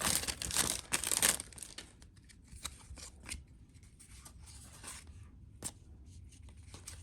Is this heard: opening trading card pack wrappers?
yes